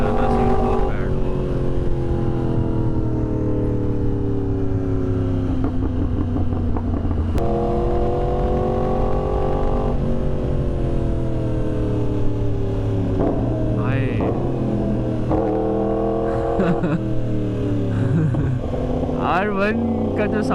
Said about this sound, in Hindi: R1 का जो साउंड है ना वो मतलब बहुत कम लोगों को पसंद आता है